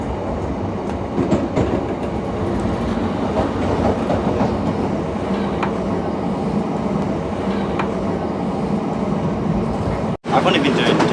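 A passenger train in Scotland runs on its rails with a steady rumble and rhythmic clickety-clack heard from inside the carriage, continuous throughout, with a brief sharp dropout near the end.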